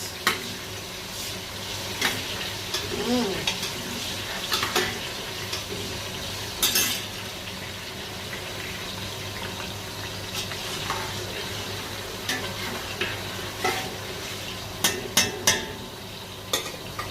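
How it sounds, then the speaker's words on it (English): Onions stirred in a cooking pot for a homemade stew, with a soft continuous frying sizzle under repeated metallic scrapes and clinks of a spoon against the pot, moderately close and without speech. "As we drop the onions, let's try to turn the pot."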